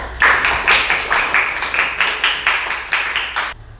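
A small classroom group claps in unison with a steady rhythmic beat, about a dozen crisp, close, loud claps in a row that stop abruptly near the end.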